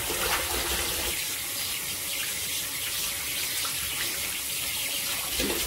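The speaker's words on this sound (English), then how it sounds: "Just going to add some more water." Tap water runs steadily into a sink or basin to soak stained white laundry, a continuous close gushing hiss lasting throughout with no talking.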